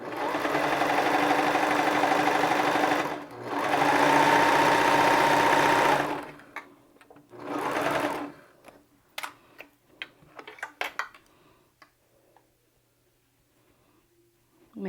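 A sewing machine stitches clear elastic around a bodice neckline in two steady runs of several seconds, then a shorter burst, followed by scattered clicks and handling noises.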